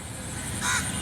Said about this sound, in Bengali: ওই যে গাছে একটি কাক ডাকছে